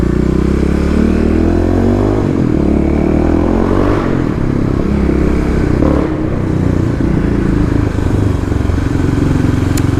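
A fuel-injected Kawasaki KLX351 dirt bike revs hard and steadily inside a parking garage, with a loud, near engine note, clattering mechanical noise and a sharp exhaust pop.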